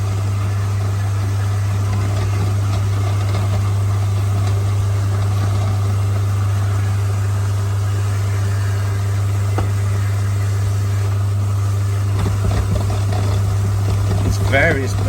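An InSinkErator Evolution 200 garbage disposer runs under a kitchen sink, giving a steady, loud, low motor hum that continues throughout, with a few clatters near the end.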